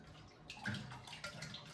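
Fish being washed in water, with faint, soft splashing and trickling that drifts in and out at low volume, with no talk.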